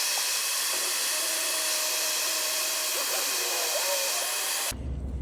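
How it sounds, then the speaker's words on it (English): A heat gun blows a steady, loud hissing stream of hot air onto a tube on a 2005 Mercedes-Benz E320 W211 during valve cover work, cutting off abruptly near the end. "I'm going to heat it up with a heat gun to make it a little softer"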